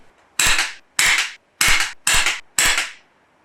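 An Umarex Notos PCP air rifle fires Premier 14.3 grain pellets downrange in a backyard, five sharp, loud cracks spaced about half a second apart, each followed by a short decay, with quiet between shots.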